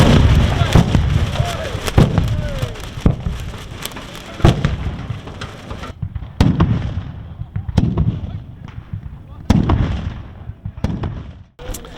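Carbide cannons firing at a carbide-shooting event in Feanwâlden, delivering a series of loud, sharp booming bangs spaced a second or two apart, each with a rumbling tail, over outdoor crowd noise.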